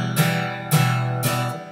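Guitar chords strummed in plain, evenly spaced quarter notes with no rhythmic groove, each strum ringing out clearly with no talking.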